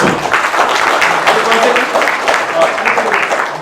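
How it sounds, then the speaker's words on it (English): Audience applause closes a workshop on learning Japanese at Japan Habba 2023, loud and close, with voices mixed in among the clapping. "thank you very much for joining, and a big round of applause"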